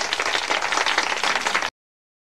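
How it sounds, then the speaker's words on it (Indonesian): An audience in a film scene bursts into steady, dense applause, many hands clapping together in a continuous loud wash that cuts off abruptly after under two seconds. "semua penonton sangat terpukau sembari memberikan tepuk tangan"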